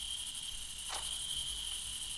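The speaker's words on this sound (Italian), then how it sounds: "È che danno troppo fastidio a sti grilli." Crickets chirp in the Granny horror video game, a steady, high, continuous trill that runs alone throughout, with a brief soft whoosh near the middle.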